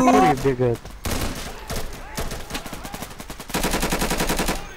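Rapid gunfire in a shooter video game, with fusillades of sharp automatic shots, some dense rattling stretches and closer single cracks. A voice is heard briefly at the start.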